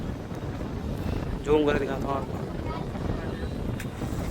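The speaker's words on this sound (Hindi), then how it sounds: "देखिए बहुत ही बढ़िया ठंडी ठंडी हवा चल रही है" Cool wind blows on a hilltop overlooking the city of Bhubaneswar, a steady low buffeting rush against the microphone that runs throughout while someone speaks briefly.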